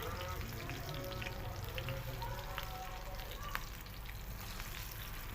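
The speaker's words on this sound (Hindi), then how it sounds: "नीचे से बिल्कुल ये गोल्डन हो चुके हैं और अच्छे तरीके से फ्राई हो रहे हैं" Potato chapli kababs fry in a pan of oil, giving a quiet, steady crackling sizzle with occasional small pops throughout.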